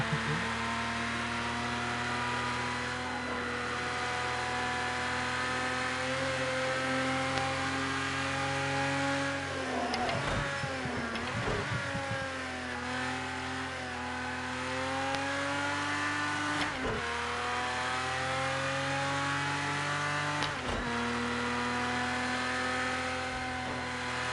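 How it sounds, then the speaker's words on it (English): A car engine revs continuously while the car drifts, its tone rising and falling in long sweeps with sharp dips and surges around the middle, loud and close with no talk. "I'm just drifting the car."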